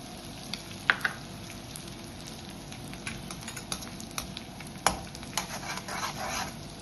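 Edible gum fries in hot ghee for methi ladoo, a steady close sizzle with scattered crackles and small pops throughout.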